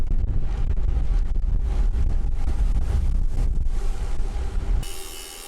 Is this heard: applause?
no